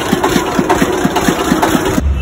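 A tractor engine left idling, chugging in a steady low rhythm at close range with no voices over it; it drops off abruptly near the end.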